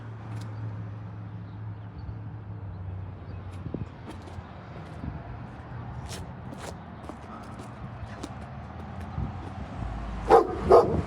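Dogs barking near an old building beside a cemetery in Independence, Missouri, with scattered sharp barks and yips that grow louder and closer toward the end, over faint footsteps.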